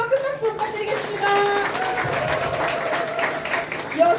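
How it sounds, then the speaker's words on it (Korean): Party members at a regional core-member meeting applaud loudly. Tonal sounds that may be music or cheering voices run over the clapping throughout. "다시 한번 큰 박수 부탁드리겠습니다."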